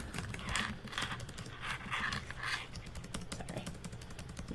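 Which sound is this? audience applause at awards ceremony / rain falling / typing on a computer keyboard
typing on a computer keyboard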